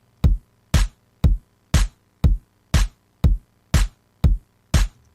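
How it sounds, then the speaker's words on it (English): Electronic EDM kick drum and clap beat, ten punchy evenly spaced hits in a steady rhythm, loud and dry with nothing else playing. "A kick and clap."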